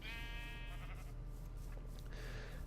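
A sheep in Minecraft bleats once clearly near the start, followed by fainter wavering bleats over steady background noise, with no talking.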